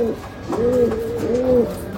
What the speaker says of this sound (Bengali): আমার বাড়িতে সব গিরিবাজ পায়রা